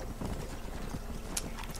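A horse in Red Dead Redemption gallops in, hooves clip-clopping in a quick, faint rhythm over a short burst.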